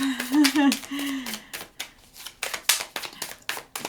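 Thick, chunky tarot cards are shuffled in a run of crisp, repeated riffling and slapping bursts, loud and close, with a person talking over the first part.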